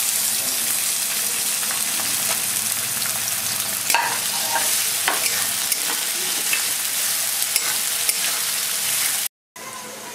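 Onions sizzle and fry in hot oil with garlic, a steady close crackle with occasional stirring scrapes, continuing alone without talk.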